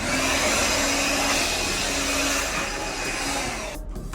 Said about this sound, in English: I'm gonna get my blower real quick.